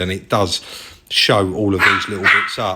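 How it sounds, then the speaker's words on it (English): A dog barks a few times in the background, mostly masked by someone talking close up over it. "Sorry about the dog in the background there."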